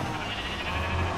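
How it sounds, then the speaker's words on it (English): Sheep bleating in a video game farm, a steady wavering bleat heard over a dense, constant wash of game background sound. "Why is the sheep all in there?"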